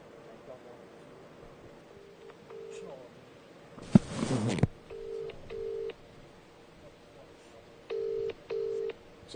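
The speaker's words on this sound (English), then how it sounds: "So I'm ringing Tyrant Finder to see if he answers the phone" A mobile phone call is placed over a speakerphone at an outdoor public speaking event: a short burst of dialing noise, then repeated steady ringback tones in even pairs, with faint voices and crowd murmur behind.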